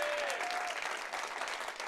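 Audience applause at a tech conference, a steady dense wash of many hands clapping for about two seconds, moderately distant and without speech.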